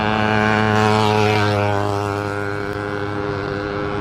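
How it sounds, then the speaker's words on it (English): A loud small-engine bike passes near a stadium construction site: a strong steady buzzing drone with dense harmonics, peaking loudest early on and then holding slightly softer as it moves off. "Man, that thing was loud. That was some bike with a little engine on it."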